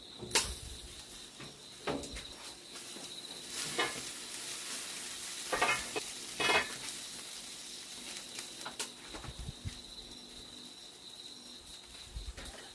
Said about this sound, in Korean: 그래, 고기는 이렇게 구워 먹어야 돼.